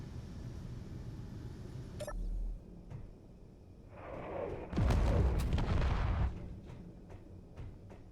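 Turrets blasting in Space Engineers: a sharp shot, then a longer roaring burst of heavy gunfire with rumbling low booms, moderately loud.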